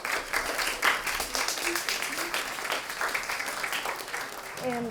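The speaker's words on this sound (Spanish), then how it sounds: "le damos un aplauso a Dani por estar aquí con nosotros." An audience at a Dulces Lolitas gathering breaks into applause, a lively burst of mixed clapping with some voices murmuring underneath, staying fairly even before fading at the close.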